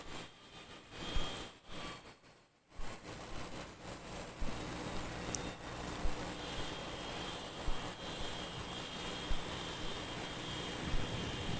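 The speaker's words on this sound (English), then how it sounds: "on left we have 934 Qantas heading off to Perth" A Qantas airliner bound for Perth takes off from Brisbane Airport, a broad steady jet roar heard from a distance outdoors, sustained throughout with minor swells and no talking.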